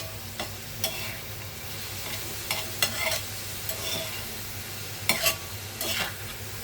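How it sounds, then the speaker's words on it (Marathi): Onion stirred and frying in a pan for a fish curry, a steady sizzle under repeated scraping strokes of a spoon, close and moderately loud, with no talking. "कांदा मस्त असं आपण ना मऊ शिजवून घेतला"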